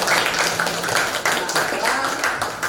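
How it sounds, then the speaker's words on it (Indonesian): Students and guests at a school event clap together in a brief, dense burst of applause, steady and fairly loud throughout the short moment. "Tepuk tangan buat kalian semua."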